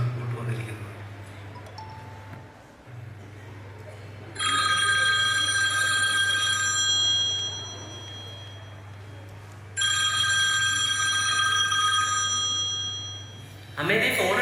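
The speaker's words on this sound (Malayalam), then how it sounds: "അമ്മേ, നീ ഫോൺ അടിക്കുന്നുണ്ടല്ലോ." A telephone rings in a household, bright repeated bell-like trills in two long bursts with a third starting at the end, loud and close over a steady low hum, with a voice speaking briefly between rings.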